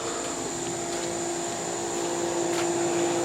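A 1979 Emerson Quiet Kool window air conditioner runs with a steady, even whirring hum and fan rush, with no change across the whole stretch and no voices over it.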